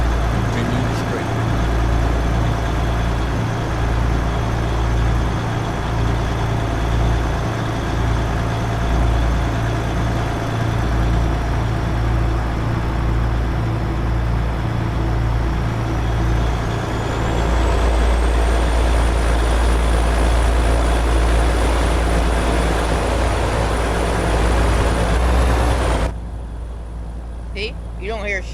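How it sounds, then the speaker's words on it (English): A truck engine in American Truck Simulator with realistic sound mods, heard from outside the cab: a loud, steady low rumble that shifts midway, then cuts away abruptly near the end, with someone talking over it. "It's the only way you hear the truck."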